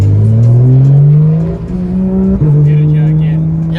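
A Porsche GT3 RS engine revs loudly inside a tunnel, a booming rising roar that dips briefly and surges again, close and echoing, with voices faintly underneath.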